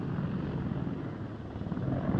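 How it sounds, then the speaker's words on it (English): An Army Air Corps Apache military helicopter drones steadily with a low rotor chop and engine hum, moderately loud and continuous. "the amazing Apache helicopter from the Army Air Corps"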